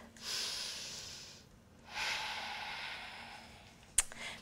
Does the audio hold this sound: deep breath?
yes